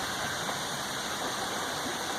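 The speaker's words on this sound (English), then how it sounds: "It's been raining now for about an hour straight." Steady rain pours down outdoors after a load of slabwood is unloaded, making a dense, even hiss that stays constant throughout, with no voices.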